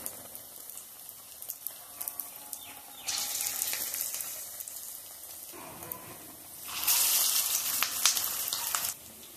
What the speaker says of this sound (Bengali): আমি ডুবো তেলে ভাজছি